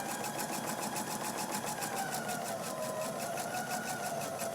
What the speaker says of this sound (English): you're going to sew right on that line